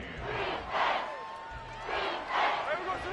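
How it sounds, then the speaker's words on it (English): Stadium crowd at a Seahawks vs Panthers football game roaring in two loud swelling waves, a dense wash of cheering voices rising and falling over about three seconds. "This crowd turning up the decibel level"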